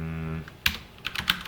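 A computer keyboard clicks as a SQL query is typed, a handful of quick, light key taps close up, following a brief stretch of voice at the start.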